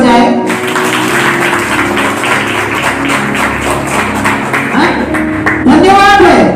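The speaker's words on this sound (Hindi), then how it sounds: "ताली थोड़ा जोर से बजाए।" An audience at a Hindi Christian church gathering claps continuously in a dense patter, with a voice speaking over the applause and a brief tonal swoop near the end.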